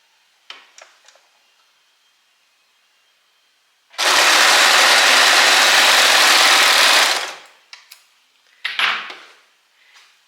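A sewing machine stitches a pyjama shoulder seam in one loud, continuous run of about three seconds, bracketed by quiet clicks and handling noises before and after.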